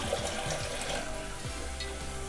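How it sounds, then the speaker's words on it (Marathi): Water poured onto potatoes in a cooking pan on a gas stove gives a continuous splashing, gurgling pour, close by and uninterrupted, with no talking over it. "पाणी घालते"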